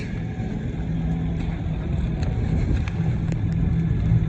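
A Kobelco SK85 excavator grades dirt beside a house with a steady, loud low engine drone and faint clanks of the bucket scraping soil, heard alone without talk.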